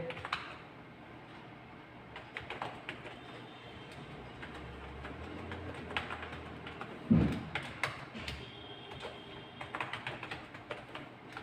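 C code is typed on a computer keyboard in a quiet room, with bursts of close, light key clicks, a few heavier taps and short pauses between runs.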